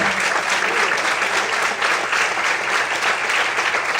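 Congregation clapping together during a church service, a dense, steady applause filling the whole space without pause.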